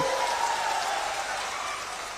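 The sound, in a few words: crowd applauding for Anirudh Yadav at a rally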